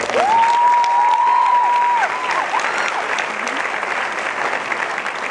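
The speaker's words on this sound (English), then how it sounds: "let's hear it again for Daniel Hsia, who's fantastic" Dense audience applause at a film premiere Q&A at a film festival fills the whole stretch at steady loudness, with a brief whistle-like tone rising and holding early on.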